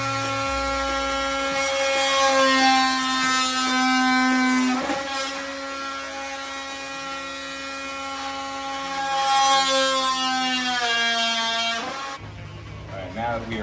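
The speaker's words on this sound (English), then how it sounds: "Got to break out my oscillating multi-tool, and we're gonna use this sucker to cut out our project." An oscillating multi-tool cuts out a wooden starburst art piece, giving a loud, steady, high-pitched buzzing drone rich in overtones that shifts pitch slightly as it works through the wood, running for about twelve seconds before stopping.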